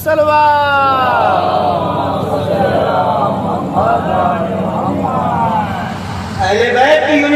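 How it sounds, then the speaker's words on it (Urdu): A packed Muharram majlis congregation roars a salawat slogan in unison, a loud, continuous chorus of massed voices that holds steady before a fresh shouted surge near the end. "نعرے سلوات۔"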